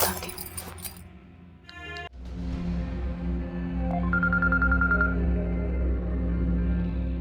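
A telephone number is dialed: a quick run of short, evenly spaced keypad beeps follows some clinking handling noise, over a low room hum.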